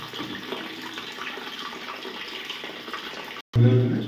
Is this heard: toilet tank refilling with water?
yes